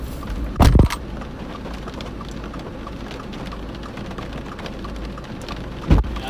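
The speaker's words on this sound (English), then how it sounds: "And we're getting rain" Steady, loud rain pours down during a storm chase beneath Southern Plains supercells, a dense continuous hiss broken by two brief heavy thumps near the start and end.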